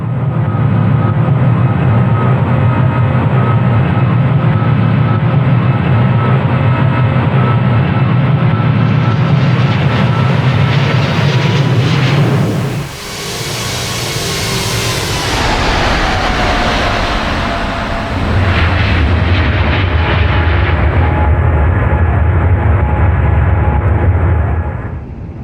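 Airbus A350-1000 landing gear retracting in Microsoft Flight Simulator: a loud, continuous engine roar drops away briefly while a mechanical whir and thump of the gear folding up sounds, then the steady roar returns.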